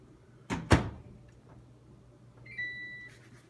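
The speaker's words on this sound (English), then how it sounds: "We're opening and closing the door." A Jenn-Air microwave oven door is opened and shut, two sharp close clunks in quick succession, then a brief electronic beep from the appliance later on, in a quiet room.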